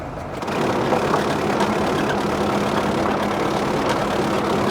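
A tractor-driven potato harvester combine runs at about 220 RPM, giving a steady, loud mechanical drone with a low hum that holds evenly from start to finish after a brief quieter opening.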